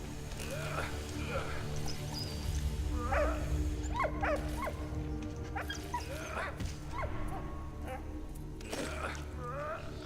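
A dog barks repeatedly in the World War One video game Valiant Hearts, sharp yelps and woofs scattered over a steady low rumble of game ambience.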